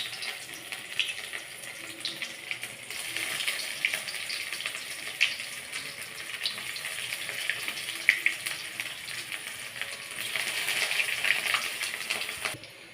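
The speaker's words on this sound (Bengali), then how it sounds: "এবার তেলটাও আমার গরম হয়ে গেছে, এবার আমি তেলের মধ্যে এইভাবে দিয়ে দেবো।" Stuffed teasel gourd chops fry in hot oil, a steady close sizzle and crackle that swells as pieces go in and fades toward the end, with no talking.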